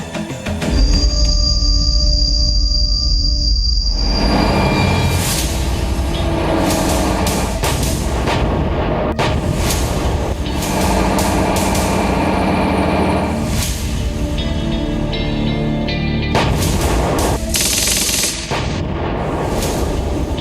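Indian Army T-90 Bhishma tanks fire repeated heavy booming cannon shots while their engines and tracks rumble and clank continuously, loud and close, amid a dense barrage of blasts.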